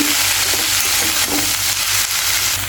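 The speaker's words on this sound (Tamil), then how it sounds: "மஞ்சள்தூள் சால்ட்டு இதெல்லாம் ஆட் பண்ணி ஆயிலும் ஊற்றி நல்லா வந்து வதக்கிட்டே இருக்கணுங்க" Okra sautéing in oil with turmeric and salt, a loud, steady close-up sizzle with gentle stirring scrapes and faint knocks, alone without voices.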